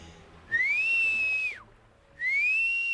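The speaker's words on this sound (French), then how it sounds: "je voudrais continuer à siffler." A person whistles two long, clear, steady notes with a rising start, separated by a short pause, close and alone with no talk.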